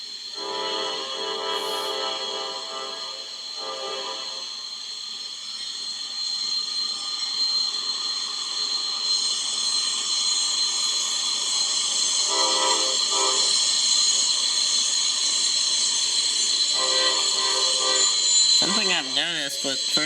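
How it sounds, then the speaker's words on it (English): A Norfolk Southern unit train works around Horseshoe Curve with a steady rolling rumble and several long horn blasts, heard from some distance. "There's also a unit train."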